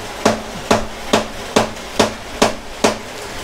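A grouper fish is chopped into slices at home. Seven evenly spaced, sharp thuds ring out close up, one roughly every half second, with no talking.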